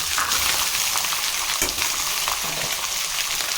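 Small shallots, garlic and Chinese potato tuber hit hot oil after mustard seeds have spluttered, for a village-style tamarind curry, giving a loud, steady, close sizzle with a few brief crackles and no voices.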